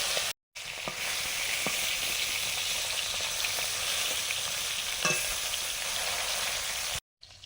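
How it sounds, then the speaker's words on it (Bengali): Koi fish sizzling steadily in hot oil with occasional clinks and scrapes of stirring, a loud even crackle broken by short silent gaps at the start and end. "কই মাছগুলো ভাজছি"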